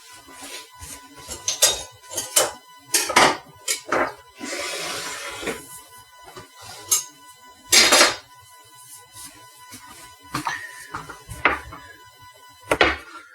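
Kitchen clatter while fetching a knife for a pumpkin Bundt cake: repeated sharp clinks and knocks of dishes, cutlery and cupboard wood, irregular and close, with a brief rustling scrape midway and no talk.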